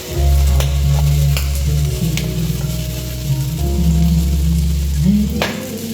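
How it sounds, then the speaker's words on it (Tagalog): Garlic and onion sauté in a pan for a green bean and carrot stir-fry, giving a loud, steady sizzle under a low hum, with a few utensil scrapes and a stir near the end. "gisa na po natin yung sa bawang at sibuyas"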